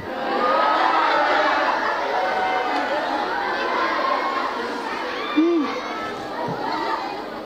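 A crowd of young women at an Islamic boarding school gathering shouts and chatters in a large room, a dense, continuous wash of many voices with a brief louder cry near the end.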